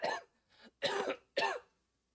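Three or four close, raspy coughs in quick succession, near and fairly quiet, followed by silence.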